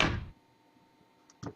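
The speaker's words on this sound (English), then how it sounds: "Close these doors." Heavy doors being shut in a Minecraft-style tunnel-building game: a close, loud thud at the start, silence, then a second softer thunk near the end.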